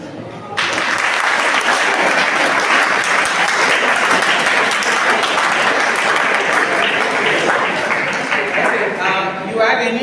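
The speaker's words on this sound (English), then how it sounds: "a big round of applause" A big round of applause from the audience at a personality development and life skills training class, loud, dense clapping starting abruptly and holding steady for about ten seconds.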